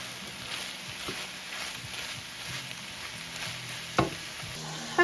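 Vegetables sizzle and fry in a little oil in a pan, a steady soft crackle with occasional stirring scrapes and a couple of louder knocks near the end.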